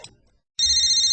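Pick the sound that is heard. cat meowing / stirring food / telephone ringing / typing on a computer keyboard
telephone ringing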